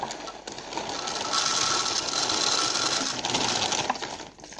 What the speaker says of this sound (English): Now I'm going to put a few pumpkin seeds in.